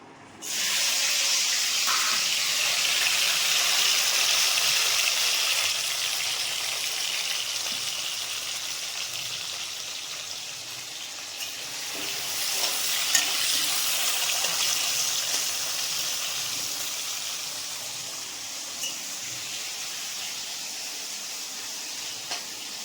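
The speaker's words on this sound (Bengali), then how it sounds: "আমার তেল গরম হয়ে গেছে এবার আমি কচুগুলো ভেজে নিচ্ছি" Taro pieces frying in hot oil for a Bengali village chicken curry, producing a loud, continuous broad hiss that stays strong and even from start to finish with slight swells, and no talk.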